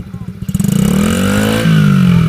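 A Coolster 70cc dirt bike engine putters at idle, then revs up with rising pitch and a distinct step as it shifts gears, loud and close, while a person speaks over it.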